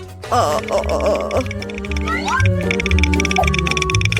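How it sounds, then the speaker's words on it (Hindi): A cat hidden under a jacket meows several times, short wavering cries among voices and background music in a comedic scene, fairly close and clear. "मुझे पता है कि आपके जैकेट के नीचे क्या है। ये एक बिल्ली है।"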